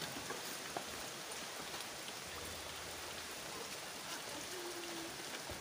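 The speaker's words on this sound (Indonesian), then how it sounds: "Ini hujan-hujan masih semangat banget untuk mengambil" Steady, dense rainfall beats down outdoors while workers gather sand, a constant close hiss of drops on surfaces with no break for the whole stretch.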